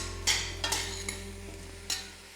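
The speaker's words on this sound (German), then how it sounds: "Die Frühlingszwiebeln auch hinzugeben und das Ganze 5 Minuten im Topf ein wenig anbraten." Spring onions sauté in a pot for a kohlrabi soup, with a faint steady sizzle under a low hum and a few sharp scrapes and clinks of a spoon stirring against the pot.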